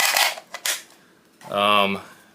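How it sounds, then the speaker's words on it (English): A magazine is pushed into a Romanian PSL 54 rifle off to one side, giving a few sharp close clicks and knocks, then a loud metallic rattle lasting about half a second. "I'm going to insert this mag off camera."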